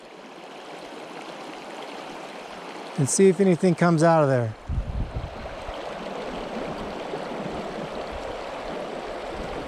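A small brook trout creek in a tight, branchy spot flows with a steady close rush that runs the whole time, while someone talks briefly over it partway through.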